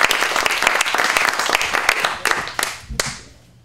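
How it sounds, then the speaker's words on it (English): An audience bursts into a huge round of applause, dense clapping from a crowd that thins into a few scattered claps and fades out near the end. "How about a huge round of applause?"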